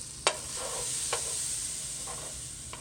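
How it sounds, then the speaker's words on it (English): Butter sizzling in a skillet heated on medium, a steady bright hiss running throughout, with a few soft scrapes from stirring, close and even in level. "I just grab a blob of butter and put it in the skillet that I've already heated on medium"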